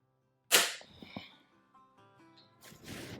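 A PP700SA air pistol fitted with a moderator fires once indoors, a sharp muffled crack followed by faint metallic clinks and rustling, then a softer hiss near the end.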